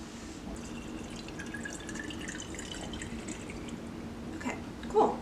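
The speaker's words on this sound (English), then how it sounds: "the first thing to do is put water in the top part here" Water pours into the top chamber of a coffee maker in a faint, trickling stream, ending with a soft clunk.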